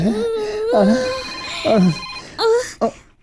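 A cellphone rings indoors in a drama scene: a bright, melodic ringtone repeats in several separate bursts with brief gaps, loud and near.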